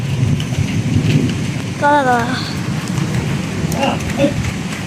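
Heavy rain pours steadily on a village under a darkened sky, a dense close hiss that runs through the whole stretch, with a brief tonal call and faint voices showing through in the middle.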